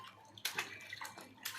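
Faint splashes of water during a bath, a few short bursts separated by quiet gaps.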